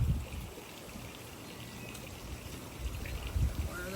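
Water flows from a garden hose into a backyard pond waterfall, a faint steady trickle and splash heard alone with a few low bumps of handling.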